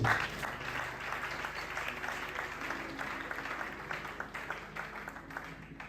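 A church congregation at a Sunday service applauds, with steady, dense clapping that fills the room and fades slightly near the end.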